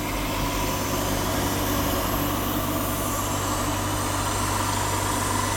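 An engine machine-shop machine, used in cylinder head and engine work, runs steadily with a dense, constant mechanical drone and low hum, loud and unbroken throughout, with no voices.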